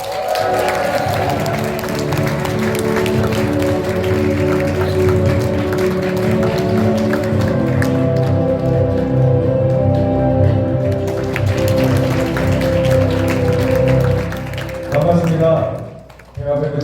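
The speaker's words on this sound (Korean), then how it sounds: "모실 때 여러분들 예와 같은 박수 부탁드립니다." Broad, steady applause from a seminar audience welcoming the host to the stage, sustained and fairly loud, with music and an announcer's voice mixed in over it before the clapping tapers off near the end.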